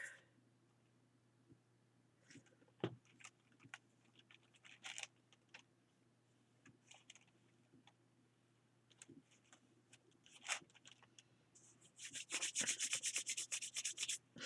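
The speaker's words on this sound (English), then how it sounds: "So that's how I dry my white glue. I just rub it until it's dry." Dried white glue rubbed off paper and hands during a glue-book craft session: soft, intermittent scratchy rubbing strokes at close range, growing into a denser, louder burst of rapid rubbing near the end, with no talking.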